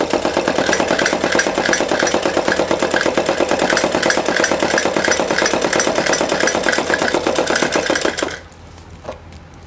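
A sewing machine stitches a four-panel salwar in a fast, steady mechanical run of rhythmic needle clatter, loud and close, stopping abruptly near the end and followed by a brief tap.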